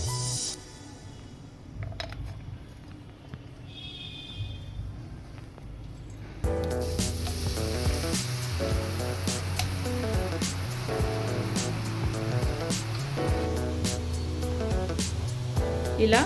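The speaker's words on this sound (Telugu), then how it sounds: "ఇప్పుడు కారపూస డీప్ ఫ్రై చేసుకోవడమే." Karapusa dough deep frying in hot oil in a kadai, quiet at first with a few small clicks, then a sudden dense crackling sizzle that keeps bubbling steadily and loudly to the end.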